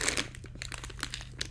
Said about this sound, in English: The crinkling of the bag will probably be so loud